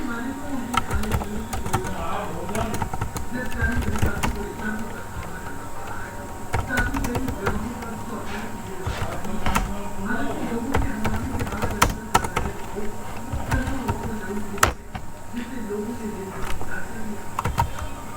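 Computer keyboard keys clatter in an irregular stream while someone types out commands to create a Python virtual environment, under a low steady background hum, with some faint voice-like sound mixed in.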